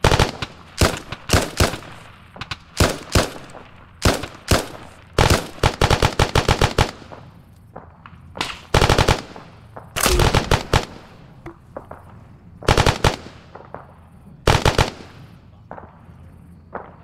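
Repeated bursts of machine gun fire in the Arma 3 military video game, loud and close, firing in short rapid volleys separated by brief pauses across the whole stretch.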